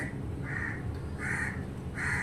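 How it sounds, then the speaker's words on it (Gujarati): A crow caws several times in a steady rhythm, each harsh call spaced apart, heard faintly from a distance over a low background hum. "કાગડાભાઈ આવી ગયા છે સરસ મજાના બોલે છે"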